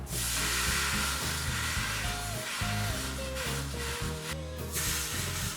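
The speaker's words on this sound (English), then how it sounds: "I'm basically going to steam out the fibers." A steam iron on a high cotton setting hisses and sizzles steadily as it presses a damp cloth laid over a dent in mahogany or reclaimed wood. The hiss is loud and continuous, with music playing underneath.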